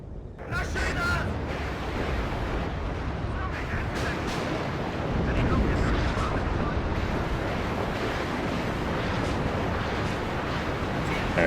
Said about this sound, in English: And rocket artillery coming in